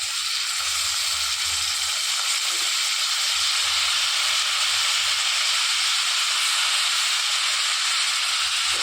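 Brinjals dropped into hot oil for Andhra-style vankaya pulusu set off a loud, steady hissing sizzle that holds without a break for nearly nine seconds, close up, with no talking.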